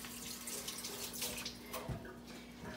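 Tap water pours steadily over frozen cilantro in a kitchen sink, a soft, continuous splashing stream with small bursts of spatter, quiet and alone with no voices.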